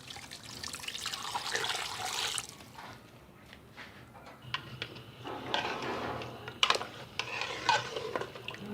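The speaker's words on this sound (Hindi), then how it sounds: "अब मैं इसके अंदर पानी डाल के यखनी बना लूँगी।" Water is poured into a cooking pot with spices, cinnamon and garlic-ginger paste to make stock for Kabuli pulao, giving splashy gushing bursts with a pause midway and a few metallic clinks near the end.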